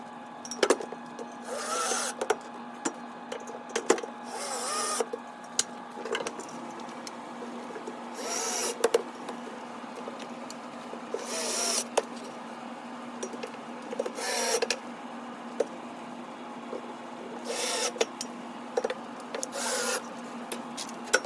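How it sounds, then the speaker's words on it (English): Screws are driven in while a Motum mobile lectern is assembled, producing repeated rasping, ratcheting bursts every few seconds over a steady electrical hum, with scattered clicks and knocks between them. "before we start fastening the screws in, we're going to try to make sure that we're touching on both sides here"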